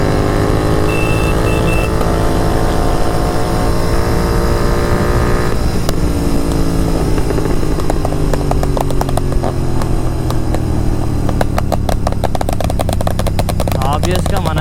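A tuned Royal Enfield GT 650 motorcycle roars along at speed, its engine note loud and close, rising in pitch as it accelerates, with a steady rushing drone throughout.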